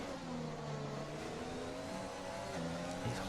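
Formula 1 race cars in the F1 2020 video game scream along, several engines whining and shifting pitch as they climb a hill together, with a steady high-revving drone and no voices heard.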